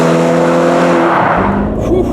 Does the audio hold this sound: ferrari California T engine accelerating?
yes